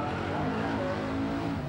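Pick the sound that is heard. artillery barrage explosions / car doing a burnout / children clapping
car doing a burnout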